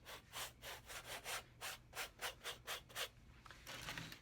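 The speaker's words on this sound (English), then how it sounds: "So I'm just going to squirt a little white and use my little 2-inch chip brush to just move that around." A 2-inch chip brush rubs white paint across a painted background surface in a quick run of about a dozen rhythmic scrubbing strokes, close and fairly quiet, with no talking.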